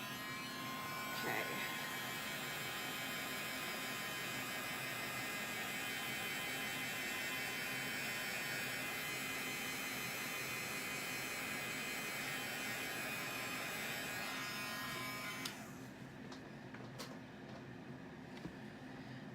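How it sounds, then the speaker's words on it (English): A craft heat tool in use for a hot cocoa bar project, giving a steady, loud motorised whir with airy hiss that runs continuously for about fifteen seconds, then cuts off abruptly, leaving quieter room noise. "Well, I keep calling it a hair dryer, but it's a craft dryer."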